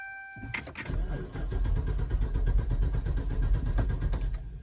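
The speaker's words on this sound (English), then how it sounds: "it's still just cranking and not firing up" A Hemi-powered AWD Dodge Charger's engine cranks over repeatedly in a steady rhythmic churn for several seconds without catching, preceded by a brief electronic chime.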